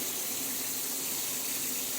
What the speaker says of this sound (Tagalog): dagdagan natin ng tubig guys